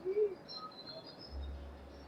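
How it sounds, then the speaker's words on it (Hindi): Morning birdsong around a meditation setting: a few faint, scattered chirps and a soft low call near the start, distant and quiet against a hushed background. "पक्षियों की चहचहाहट की आवाज से पूरा"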